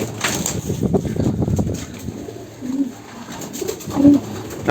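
Pigeons in a pigeon house give low, throaty coos, several soft overlapping calls and a louder close one near the end, over a faint muffled background.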